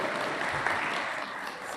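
Church congregation applauding throughout a short stretch, a dense, steady wash of clapping with no break and no talk over it.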